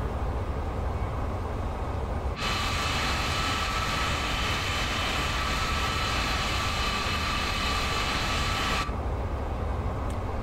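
A C-17 taxiing in Microsoft Flight Simulator, a steady broadband engine roar with a sustained whine, loud and unchanging, alone without voices.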